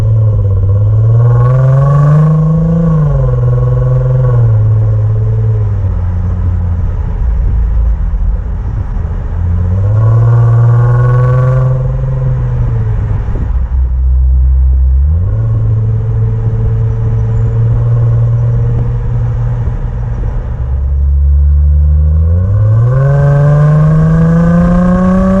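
A 2015 Range Rover Sport HSE's supercharged V6 roars continuously, its pitch climbing and dropping in repeated revs as the vehicle accelerates and shifts, with a deep rumbling exhaust throughout.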